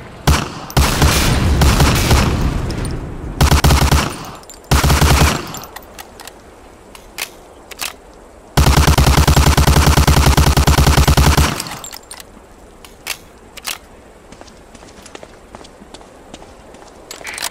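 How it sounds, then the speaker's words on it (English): A Thompson submachine gun rattles in long automatic bursts at a target on a WWII training range in Medal of Honor Allied Assault. Loud bursts alternate with pauses and scattered single shots and clicks. "Shoot that target 20 times with the Thompson."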